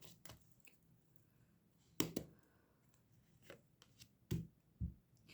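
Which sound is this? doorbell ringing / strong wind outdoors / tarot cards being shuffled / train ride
tarot cards being shuffled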